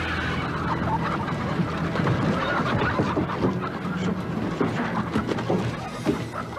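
A flock of chickens clucking in a henhouse, a dense, busy chorus of overlapping clucks and squawks that keeps going throughout, recorded from an old Arisco television advert.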